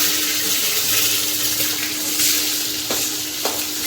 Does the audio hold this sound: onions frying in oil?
yes